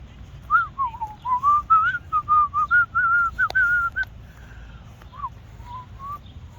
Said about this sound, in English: Aren't you supposed to whistle when you go through the cemetery?